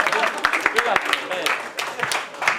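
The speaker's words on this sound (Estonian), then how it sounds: "tõepoolest kõva aplaus sulle" Audience applause at a 2013 charity motocross event, a dense wash of clapping with sharp individual claps standing out, fairly close and steady for a few seconds with a voice faintly mixed in.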